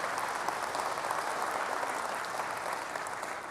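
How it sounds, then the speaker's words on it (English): An audience at Sony's E3 2006 press conference applauds, a dense, even wash of clapping that holds steady throughout, filling a large hall without any voices standing out. "please, round of applause for the great work there."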